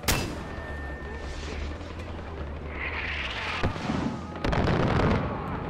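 A mortar shell is fired and then explodes in the shooter game Far Cry 4, with a launch thump, a whistling flight and a booming blast amid continuous rumbling battle noise.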